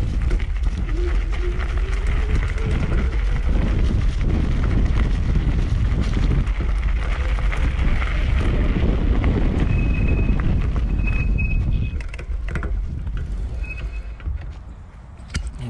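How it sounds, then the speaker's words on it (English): A 2020 Surface 604 Shred hybrid e-bike with a suspension fork rides off-road, giving a loud, steady rush of wind buffeting and rolling tyre rumble that runs almost the whole time, then eases slightly near the end. "So now I'm going to do some off-road riding."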